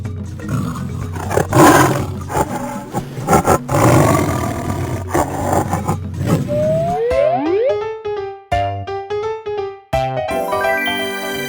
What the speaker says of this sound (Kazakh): Жолбарыс.